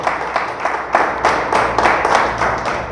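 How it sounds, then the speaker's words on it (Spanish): A church congregation applauds for God during a Spanish-language sermon, with loud clapping swelling in rhythmic bursts, some hands falling into a loose beat over a faint low hum. "¿Le damos un fuerte aplauso a Dios?"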